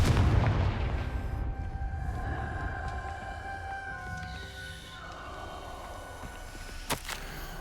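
The Confringo explosive spell in Hogwarts Legacy, a heavy blast at the start that rumbles and decays, followed by a long ringing magical tone and a couple of sharp cracks near the end.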